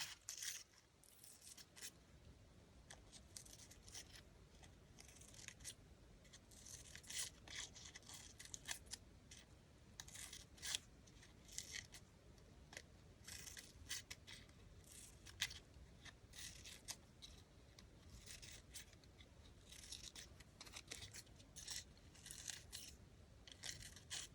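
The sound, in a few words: scissors cutting paper shopping receipt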